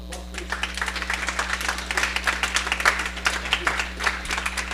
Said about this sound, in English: Let's give Antonio a round of applause,